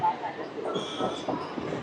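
A MEMU passenger train runs between Vijayawada and Machilipatnam on the outskirts of Gudivada, giving a steady close rumble of wheels and carriage noise with faint higher squeals throughout.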